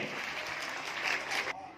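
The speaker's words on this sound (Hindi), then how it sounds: "जोरदार तालियां के लिए।" Audience applause ahead of a fourth-class students' school drama, a dense burst of clapping that swells briefly and then cuts off abruptly near the end.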